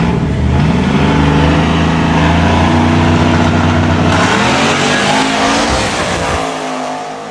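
A drag race car at a no-prep hood track roars loud and close as it launches from the line, the engine revving hard and climbing in pitch before easing slightly at the end.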